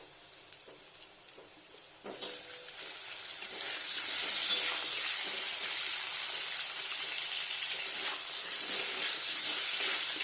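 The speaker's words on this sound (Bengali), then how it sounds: "ওই তেলটাতে আমি আলুগুলো ভেজে নিচ্ছি পনিরের ভাজা তেলটাতে একটু লালচে করে ভেজে নেবো আলুগুলো" Potatoes frying in oil left over from frying paneer, a steady close hiss and sizzle that swells louder after a soft start and then holds evenly without talk.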